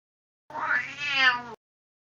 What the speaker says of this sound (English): I think the cat is telling us it's time.